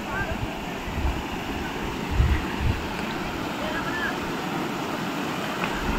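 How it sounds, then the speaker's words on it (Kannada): Water pours continuously at Chigale waterfall near Khanapur, Belagavi, making a broad, steady rushing roar, with a voice heard faintly over it. "ಇಲ್ಲಿ ನೀರು ಬೀಳ್ತಾ ಇದೆ."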